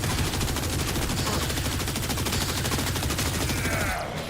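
Sustained rapid automatic gunfire from a slow-to-empty gun in the sci-fi shooter game Warframe, a dense continuous stream of shots that runs loud for about four seconds before easing off at the end.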